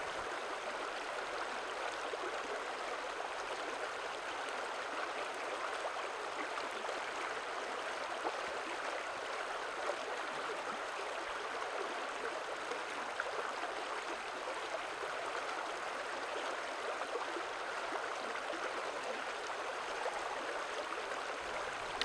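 A little brook in the Greenland tundra flows steadily, giving a soft, constant rushing and trickling of water with no breaks and no voices.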